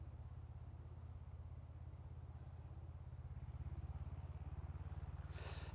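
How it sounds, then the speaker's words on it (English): A tractor on a country road near the Poland–Lithuania–Belarus border, its low engine chugging steadily with a rhythmic throb that grows slightly louder as it approaches, ending with a brief burst of noise. "We've got a tractor coming."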